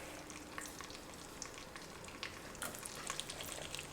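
Cooking oil and butter sizzle and crackle steadily in a pan for French onion soup, a dense bed of fine pops that grows livelier near the end, with no talking.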